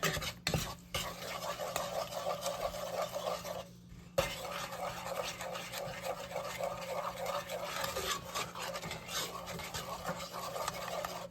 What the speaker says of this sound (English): So I'm just gonna give this a stir